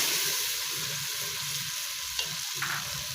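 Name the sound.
garlic ginger paste frying in pan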